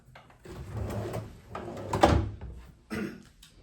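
Hotel room drawers at a Miami Beach resort slide open and shut several times, giving a few soft thuds and scraping rattles close by, with one louder bump in the middle and a final knock.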